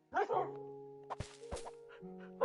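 Game dogs barking in Minecraft, a few short yips and barks near the start and end, with a steady synthetic tone and a couple of soft thunks between them, no talking.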